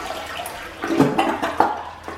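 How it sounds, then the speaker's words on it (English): A household toilet that had been clogged with garbage flushes, rushing and gurgling water swelling for a couple of seconds, nearby and alone. "Okay, that flushed a whole lot better than what it did before"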